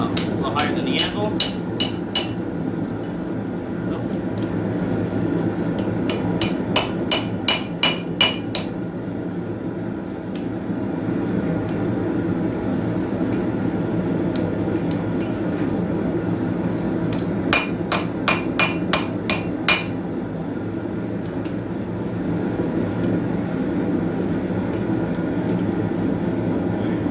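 Hammer strikes on hot metal while forging knife blade tongs come in three quick ringing bursts of rapid blows, separated by pauses. A low steady hum sits underneath.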